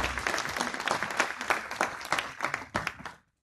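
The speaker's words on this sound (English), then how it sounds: "Please give yourselves a round of applause." Film premiere audience breaks into applause, a close, lively burst of clapping with crowd noise that stops abruptly after about three seconds.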